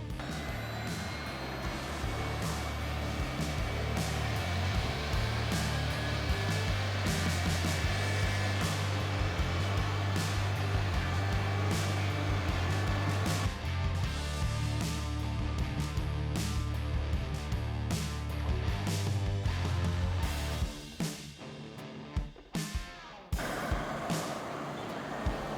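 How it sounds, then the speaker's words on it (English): A CNC router works steadily on a resin river table form, giving a continuous loud whine and hum with a low drone that cuts out near the end, followed by quieter scattered clicks. "Here we're just laying out on the CNC the form where we want the bit to cut and how deep."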